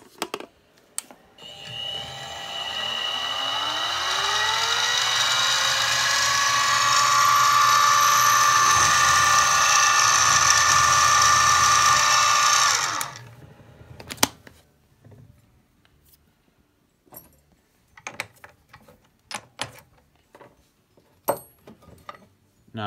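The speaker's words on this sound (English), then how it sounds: "Looks about right, and I'll go ahead and drill." A Harbor Freight mini mill drill whines and grinds steadily through metal for several seconds, then stops, followed by scattered clicks and light handling sounds.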